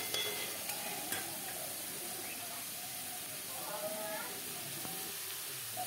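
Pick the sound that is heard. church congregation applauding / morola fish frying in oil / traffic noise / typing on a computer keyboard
morola fish frying in oil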